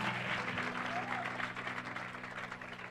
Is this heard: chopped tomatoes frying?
no